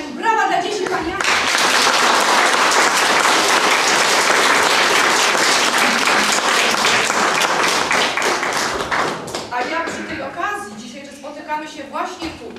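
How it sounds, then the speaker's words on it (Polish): Applause for children after a kindergarten nativity play in Gaszyn, broad steady clapping from a crowd filling most of the stretch, fading out toward the end as a voice begins speaking. "brawa dla dzieci Pani Aniu"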